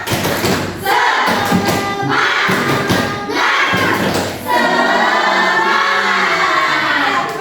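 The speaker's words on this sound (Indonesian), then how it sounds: "Beri semangat untuk Afifah, tepuk semangat." A classroom of students performs a rhythmic encouragement clap during a teaching simulation, loud repeated bursts of clapping with voices chanting along.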